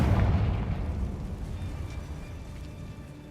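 A Confringo fire spell detonates in Hogwarts Legacy, one booming blast at the start that rolls off into a fading rumble over a few seconds, heard alone.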